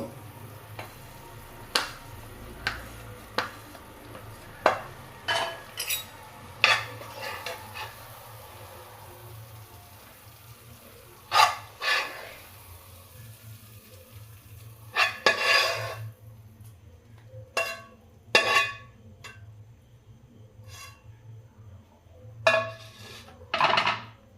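Cooked food scraped out of a pan onto a plate after the gas is switched off, with a spatula clinking and scraping against metal in irregular bursts, some rapid rasping stretches, no talking.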